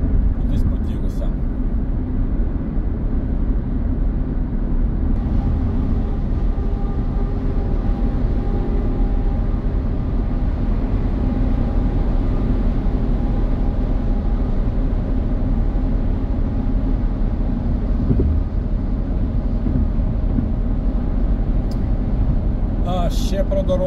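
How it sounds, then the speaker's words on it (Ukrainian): Steady road roar from a car cruising on a concrete highway, a constant low rumble and broadband tire noise throughout with no distinct joints audible, while someone talks quietly over it. "Оце ми їдемо по Хавею, він зроблений з бетону."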